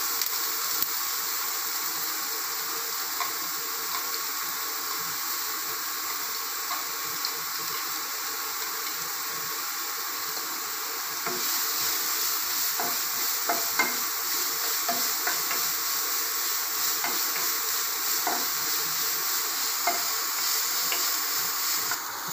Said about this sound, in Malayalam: കടുക് പൊട്ടുമ്പോൾ നമ്മൾ അരിഞ്ഞു വെച്ച സവോളയും ഇഞ്ചി പച്ചമുളകും ചേർക്കുന്നു